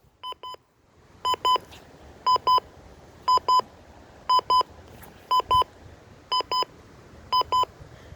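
Pairs of high electronic beeps from a WR300 weather radio alarm clock repeat at a steady pace, about eight double-beeps in a row, clear and close over a quiet background.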